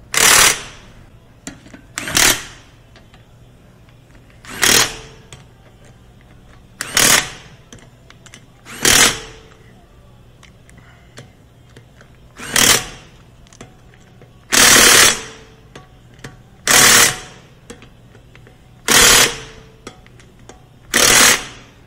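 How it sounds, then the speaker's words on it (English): An electric impact wrench fastens winter tire lug nuts in about a dozen short, loud rattling bursts separated by quiet gaps, with no talk over them. "It's definitely more vibration transferred through the electric impact than the air hammer, than the air pneumatic."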